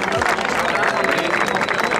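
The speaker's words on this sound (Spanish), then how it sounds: "gente, quiero un aplauso más fuerte" A crowd at a rap battle final cheers and applauds loudly, a thick continuous wash of clapping and shouting that stays even and close for the whole stretch.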